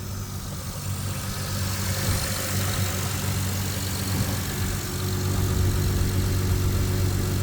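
A 2005 Acura TL 3.2 with a replaced engine idles steadily, a loud, even low hum with a faint ticking texture, running alone without talk.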